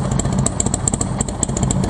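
A fuel-injected motorcycle engine idles steadily nearby, a loud continuous low rumble with a rapid, even mechanical clatter over it throughout.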